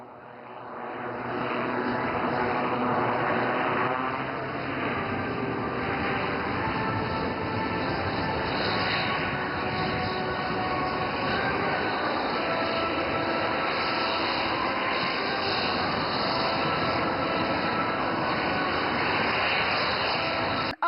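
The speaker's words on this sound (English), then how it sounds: "The Sukhoi 30 MKI is a multi-role air superiority fighter. It is a two-seater twin turbofan aircraft." A Sukhoi 30 MKI twin-turbofan fighter flies at the Aero India 2025 air show at Yelahanka Air Force Station, its jet roar loud and steady throughout, swelling slightly as it manoeuvres.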